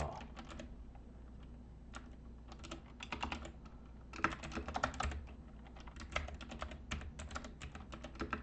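Quiet, rapid clicking of keys on a computer keyboard in irregular bursts while typing a Hangul document, with brief pauses between runs, close and soft.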